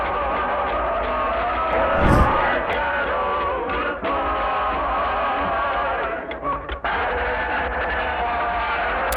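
A huge crowd of thousands of soldiers roars and cheers for Marilyn Monroe on a stage, a dense sustained wall of yelling and whooping from a distance, with swells and a sharp shout near the start.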